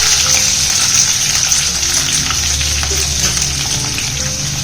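Two chopped onions tipped into hot oil in a pan for a cauliflower sambar curry, giving a loud, continuous close-up sizzle and crackle of frying with no talking.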